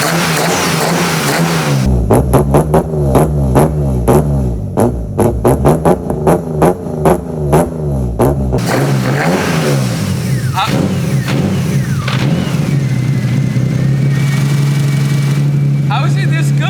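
A BMW E30 with a swapped S52 straight-six engine and individual throttle bodies starts up and revs, giving a rapid series of sharp throttle blips that settle into a steady loud idle, with someone speaking over it.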